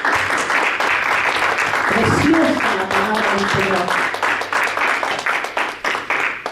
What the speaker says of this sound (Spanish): ¿Cuánto le dan un aplauso a nuestro Salvador?